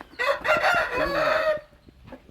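A rooster crows loudly and close at a chicken farm, one long drawn-out call with clucking at its end and a few softer clucks after.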